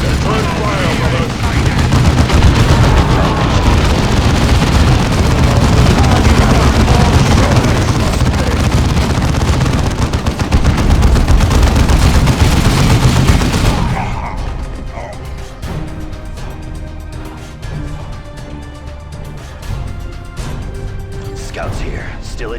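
Dense, loud gunfire and explosions from the battle game Warhammer 40K Dawn of War 2 roar for about fourteen seconds, then cut to a quieter stretch of clicks and light effects.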